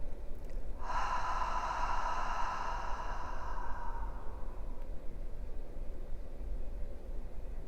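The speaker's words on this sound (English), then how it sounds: "Breathe in again. Long and vital breath and exhale." A single deep exhale during a guided meditation, one long breathy rush that starts loud and slowly fades over several seconds against a steady low background hiss.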